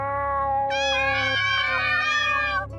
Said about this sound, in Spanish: Gatitos.